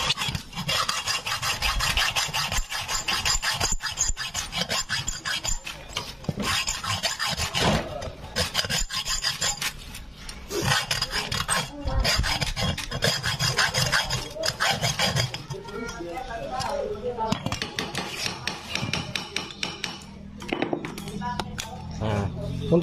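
Excess bolt length being cut off on a Supra X 125 motorcycle: rough, rasping strokes of metal cutting, with bursts and pauses, close up and fairly loud, with some background voice in places.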